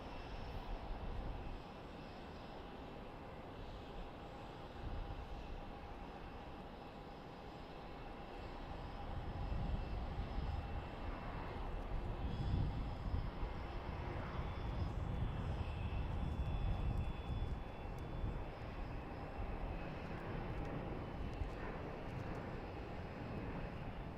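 A fixed-wing airplane on the runway at Boise Airport gives a continuous distant roar that swells in the middle and then eases slightly, with no talking.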